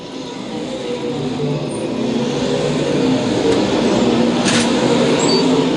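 USRA stock cars racing at Lakeside Speedway, a continuous loud engine roar from the pack that swells slightly as cars pass, heard from trackside without any voices.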